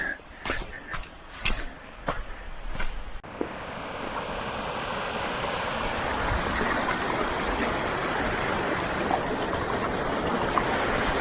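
After a few clicks and thumps, a steady broadband rush of a mountain creek flowing beside a trail takes over and holds, growing slightly louder.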